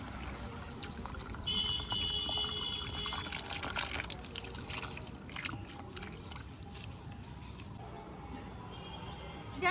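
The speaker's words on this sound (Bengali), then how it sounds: "আজকে কিন্তু হেভি জল আসছে" Strong, steady rush of running water continues without a break for the whole stretch, a dense broadband flow with no voices over it.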